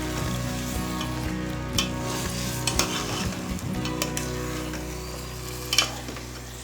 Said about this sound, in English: After adding the curd, we are going to mix everything.